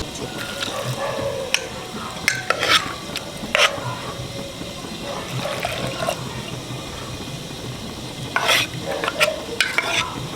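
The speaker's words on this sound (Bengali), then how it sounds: "এদিকে পটল ভাজছি" Pointed gourd (potol) frying in hot oil in a home kitchen: a steady, close sizzle runs throughout, broken by a few sharp clinks and scrapes of stirring.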